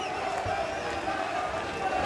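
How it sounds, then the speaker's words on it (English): A GLORY kickboxing crowd roars in a steady, dense wash of cheering and shouting throughout, with a commentator's voice running over it. "This crowd trying to"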